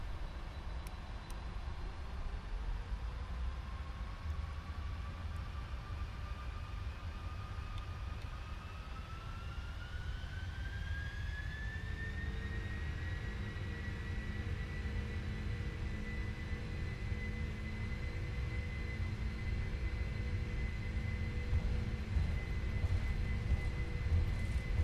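Jet engines of a PMDG Boeing 747-400 spool up for takeoff in the Prepar3D flight simulator, a steady loud roar with a rising whine that climbs and then holds as thrust settles.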